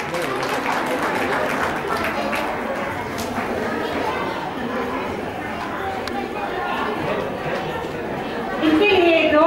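Continuous applause and crowd noise fill the space throughout at a women's organization cultural gathering, dense and steady, with voices chattering underneath.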